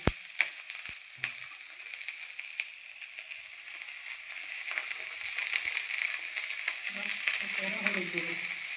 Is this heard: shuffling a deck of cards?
no